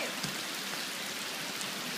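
Rain falls on a Japanese garden, a steady, even hiss of drops spattering on surfaces with a few sharper taps standing out.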